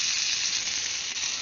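Steak pieces sizzle steadily in a skillet on a Firebox stove, a loud, continuous bright hiss of frying fat with no break or talking.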